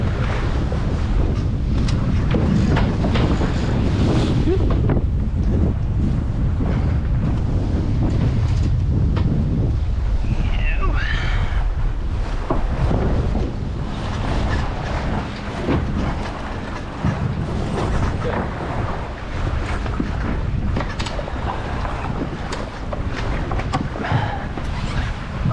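A strong gust of wind buffets a sailboat in Portland Harbor, Maine, in fall, making a loud, continuous roar and rumble of wind across the microphone with water washing beneath it throughout.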